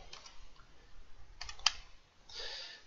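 Quiet, close typing on a computer keyboard: a few scattered key clicks, then a short burst of rapid keystrokes, with no talking.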